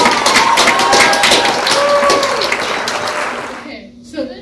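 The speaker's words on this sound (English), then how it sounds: "Clap for baby Jesus." Audience clapping at a comedic Christmas story performance, a dense burst of claps with some voices mixed in that thins out and drops away near the end.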